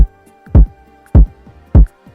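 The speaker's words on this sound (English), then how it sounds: "The kick that I use is a very thick one, and it sounds like this." A thick, heavy kick drum sample, the Big Kicker, strikes three times at an even pace, each hit booming and decaying fast over a faint steady tonal hum.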